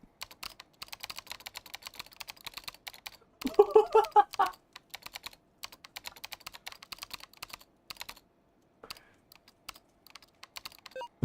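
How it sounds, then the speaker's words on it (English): Computer keyboard arrow keys hammered rapidly during a Deltarune game, a dense run of close, loud plastic key clicks with a heavier burst partway through and brief pauses between flurries, no talking. "Just smashing the arrow keys like a crazy man."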